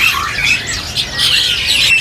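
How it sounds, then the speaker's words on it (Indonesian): Caged starlings squawk at a bird market, a steady run of harsh, bright calls that overlap and swell in bursts, close and fairly loud throughout. "Yang di bagian dalam atas Mas ini ada burung jalak lagi nih."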